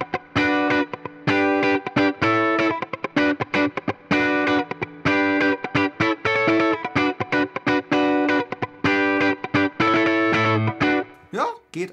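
Electric guitar with effects and distortion plays a funk passage of rhythmic, choppy chords with short gaps, close and loud throughout, ending with a brief slide.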